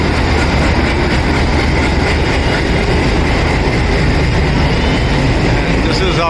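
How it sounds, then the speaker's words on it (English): A diesel shunting locomotive moves along the rails at an Indian Railway station, a loud, steady rumble of engine and rolling wheels that fills the whole stretch close by. "So it's a diesel locomotive for shunting."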